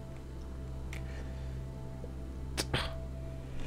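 A short, sharp sneeze bursts out near the end, close and brief, after a stretch of quiet room hum with a faint earlier click.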